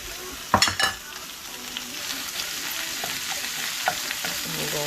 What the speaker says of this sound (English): Once your onions start getting like that, sizzling like crazy